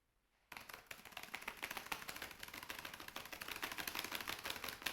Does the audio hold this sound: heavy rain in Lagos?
no